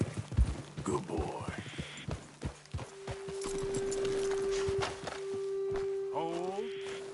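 Horses in a video game clip-clop at a slow walk, hooves thudding in a steady uneven rhythm close by, with a short whinny near the end and a voice speaking over them.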